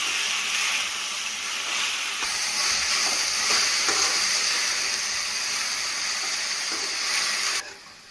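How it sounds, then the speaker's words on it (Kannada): Kashi greens stir-fried in a pan for a palya dish, giving a steady, loud hiss and sizzle that continues throughout before dropping off abruptly near the end. "ಕಾಶಿ ಸೊಪ್ಪು, ಅದನ್ನು ಇದಕ್ಕೆ ಸೇರಿಸಿ ಚೆನ್ನಾಗಿ"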